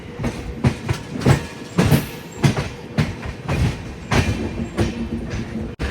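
A Shatabdi Express passenger train, running from New Delhi toward Kalka, rolls along the tracks with steady rhythmic clickety-clack of wheels over rail joints, heard loudly from close by and sounding on its own throughout.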